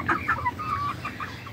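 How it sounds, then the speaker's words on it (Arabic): Chickens in a home poultry coop cluck in quick, soft bursts, close by and moderately quiet, with light background noise. "واحنا بقى بنتفرج على الطيور الكبيره وبنستمتع"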